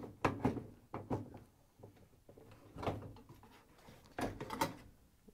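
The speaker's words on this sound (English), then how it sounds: "Once you have it free, you can pull it off the dishwasher." A GE dishwasher door is worked loose and lifted off its hinges, giving a series of close, knocking clunks and scrapes at an irregular pace, with no talking.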